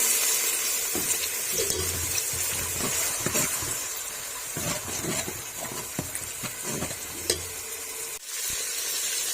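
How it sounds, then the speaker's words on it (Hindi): A little water splashes and sizzles in a hot pot of frying ginger-garlic paste for vegetable pulao, with stirring clinks and bubbling over several seconds, fairly quiet and close. "थोड़ा सा पानी ऐड करेंगे।"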